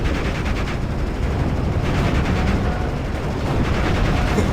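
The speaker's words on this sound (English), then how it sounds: "All of this artillery." Continuous artillery and gunfire barrage in the WWII Normandy strategy game Steel Division: Normandy 44, loud, dense rumbling booms and rapid shots layered with no let-up.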